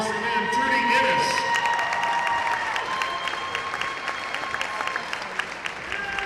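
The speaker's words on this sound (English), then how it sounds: "A nice round of applause for them." A crowd at a boys high school basketball game, Neosho vs Republic, applauds the visiting team's cheerleaders with a dense, steady wash of clapping and a few cheers that swells early and then eases slightly.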